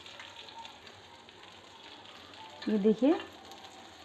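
Rohu fish fries in a pan on its second side, giving a soft, steady sizzle with a brief burst of louder spattering near the end, while a voice speaks briefly over it.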